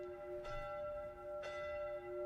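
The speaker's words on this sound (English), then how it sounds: "The ringing of bells falling softly from the sky." Two soft bell strikes ring out in the Tsukihime visual novel, distant chapel-like bells with long sustained tones hanging over a quiet background, about a second apart.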